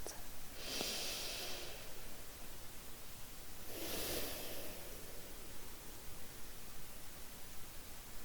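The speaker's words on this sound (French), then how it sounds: "vous pouvez prendre 2 ou 3 respirations profondes et satisfaisantes" Two slow, deep breaths are drawn a few seconds apart, soft and close against a faint background hiss.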